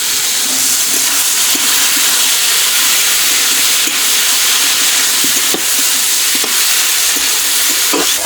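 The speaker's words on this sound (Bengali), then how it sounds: "পেঁয়াজ আর কাঁচা লঙ্কা।" Onion and green chilli frying with ridge gourd in hot oil, a steady close sizzle with scattered stirring scrapes and spatters running throughout, no voices.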